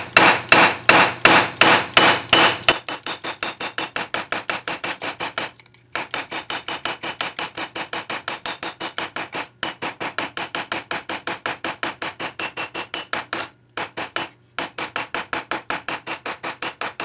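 Close, steady hammer blows texture silver and copper sheets, falling in quick rhythmic runs of metallic taps with a few brief pauses between bursts.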